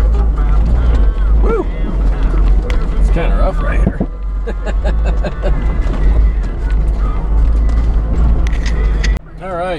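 Strong wind of about 40 mph roars and buffets steadily across a mountain off-road trail, a loud, continuous low rumble throughout, with voices talking beneath it.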